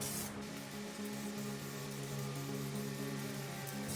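A spray gun lays a light first coat of paint across a car engine bay, making a continuous close hiss with a low humming drone underneath and no talking.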